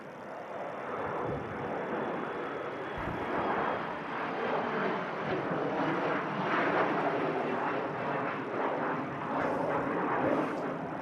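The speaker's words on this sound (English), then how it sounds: "Embraer outbound to Aberdeen." An Embraer jet departs Manchester Airport bound for Aberdeen, a broad, steady engine roar that swells gently and holds at moderate distance for several seconds, with no talk.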